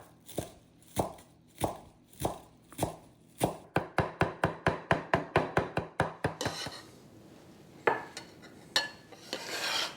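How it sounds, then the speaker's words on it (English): Knife finely chopping parsley on a board, a steady run of sharp close taps that speeds into a rapid even rhythm, then a few scattered knocks and handling sounds at the end. "We also need parsley, which I'm going to fairly finely chop."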